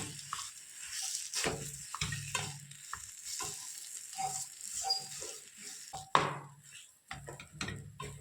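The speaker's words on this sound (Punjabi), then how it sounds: "ਹੁਣ ਚੰਗੀ ਤਰ੍ਹਾਂ ਆਪਾਂ ਤੜਕੇ ਦੇ ਵਿੱਚ ਨਾ ਆਲੂਆਂ ਨੂੰ ਮਿਲਾ ਲੈਣੀ ਆ" Potatoes stirred into a hot tempering in a pan while cooking stuffed bell pepper curry: a soft, steady sizzle with repeated scraping and clacking stirring strokes, quiet and close.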